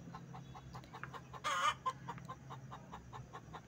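A hen in a coop cackles with soft repeated clucks while eggs are collected, one louder squawk standing out against quiet background.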